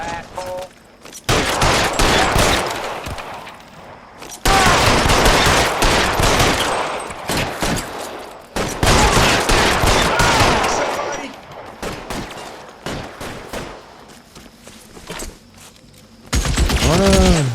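Heavy gunfire in an L.A. Noire shootout, with dense bursts of rapid automatic and repeated shots in loud clusters separated by brief lulls, mixed with game effects and occasional voices.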